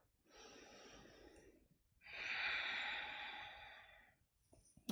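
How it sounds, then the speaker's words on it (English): A slow deep inhale followed by a longer, louder exhale during a yoga pose, close and clear, with no talking. "Deep breath in. Deep breath out."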